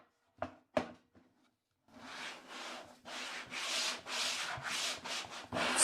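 A waxed fence on a Dewalt table saw slides back and forth along its rails in a series of smooth, snug, rubbing swooshes, close up, after a couple of sharp knocks.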